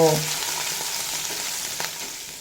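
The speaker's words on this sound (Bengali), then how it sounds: "আদা কাঁচা লঙ্কার কাঁচা গন্ধ চলে যাওয়া পর্যন্ত ভেজে কষে নিয়েছি" Ginger and green chilli frying in hot oil in a pan, a steady close sizzle throughout with a light stir at the start, no talk.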